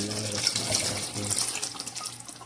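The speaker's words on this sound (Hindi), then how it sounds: "अभी मैं इसमें 1 कप पानी ऐड करूँगा ताकि ये अच्छी तरह गल जाए" A cup of water poured into lamb masala while it cooks, a soft trickling and splashing of liquid into the pot, fairly faint and close, with a few tonal clinks above.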